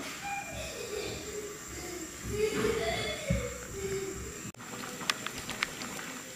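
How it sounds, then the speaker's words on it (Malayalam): A pot of mango curry made with coconut milk simmers to a boil, giving a steady soft bubbling and patter close by, with a few faint higher tones over it and no speech. "നമ്മൾ കറി നന്നായിട്ട് തിളച്ചു തുടങ്ങിയിട്ടുണ്ട്"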